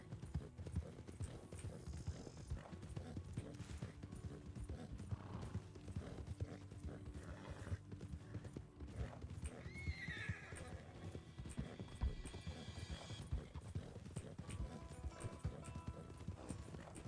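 In the video game RedM, a horse's hooves clip-clop steadily while it neighs, with soft talk underneath at low volume.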